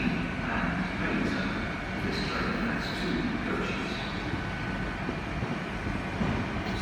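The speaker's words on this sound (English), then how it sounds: "We got Great Western Railway service coming in now, going to Payton." Great Western Railway Class 150 two-coach diesel train arriving at a station, a steady low rumble and engine drone heard from the platform, with faint voices in the background.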